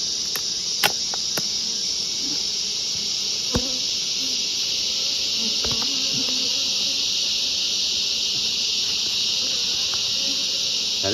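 Honeybees hum at an open beehive during hive reorganising, a steady dense buzz holding throughout with a few sharp clicks and knocks of hive parts near the start and middle.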